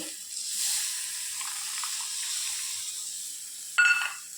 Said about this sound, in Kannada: ಮತ್ತು ನೀರನ್ನು ಹಾಕಿ ಅಳತೆ ಮಾಡೋದು